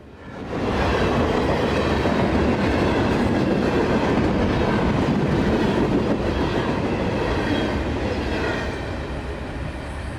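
A loud southbound freight train rumbles past close by, a steady roar of wheels on rails with faint clacking, easing slightly toward the end.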